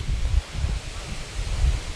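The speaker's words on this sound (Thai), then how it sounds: "ตรงนี้ก็เป็นจุดสูงสุดเลยนะครับลมก็เลยค่อนข้างจะแรง" Strong wind gusting across a hilltop tent campsite at Finn Camp in Kaeng Khoi, Saraburi, a low rumbling roar that swells and eases in waves with leafy rustling and no talk.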